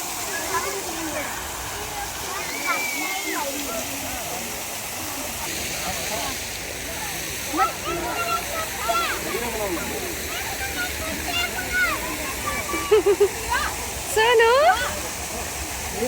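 A fountain at Lalbagh garden in Bangalore splashes in a constant rushing wash, while children talk and laugh over it.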